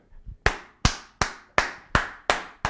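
Congregation clapping in unison during a church service, six sharp, evenly spaced claps ringing out loud and clear after a brief soft murmur.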